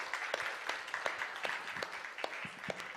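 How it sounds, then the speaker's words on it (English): Applause from a gathering at a live spiritual satsang, scattered individual claps over a steady patter, moderately loud and continuous, with no talk over it. "Let's give him a round of applause."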